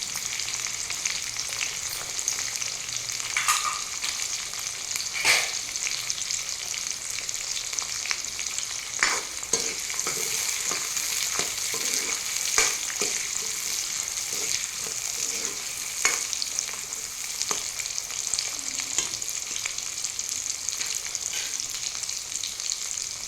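Cumin, mustard seeds and garlic frying in hot oil for a Tamil lentil-ball gravy, giving a steady, close sizzle broken by sharp pops and crackles and occasional stirring clinks.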